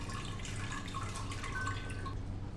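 Fresh water runs over chhena, curdled milk solids for sugar-free Bengali rasgolla, in a kitchen, giving a continuous close trickling and dripping with a low steady hum beneath.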